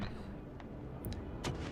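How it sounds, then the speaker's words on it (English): Artillery bombarding an infantry unit in a strategy video game set in the Napoleonic era, with scattered sharp booms and cracks over a constant low battle rumble. "Currently we're still bombarding this infantry unit over here."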